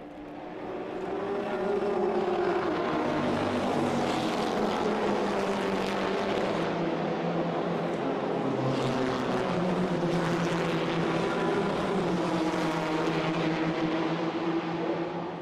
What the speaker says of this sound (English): The Ferrari charges again, but can't get past.